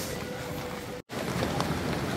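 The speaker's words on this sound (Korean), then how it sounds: "비가 그쳐가고 있습니다" Steady rain pours down on a Fukuoka street, a dense, even hiss of drops hitting pavement close by, broken by a brief cut in the middle.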